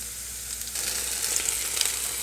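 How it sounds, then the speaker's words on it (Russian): Potatoes sizzling in a frying pan with hot oil, a steady, close crackle and hiss that grows slightly busier partway through, with no talking. "Вот так вот жарится наша картошечка"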